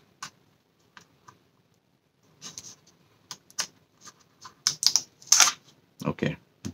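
A label is peeled off a DJI Mavic Air drone box, heard as sparse, close clicks and ticks that build into denser crackling bursts toward the end.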